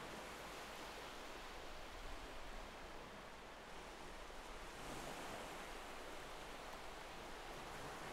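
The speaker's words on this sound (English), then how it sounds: "the luminous waves crashing against the sandy shore just before you" Ocean waves roll and crash on a sandy beach in a continuous dense wash of surf, steady and fairly loud, with no voices.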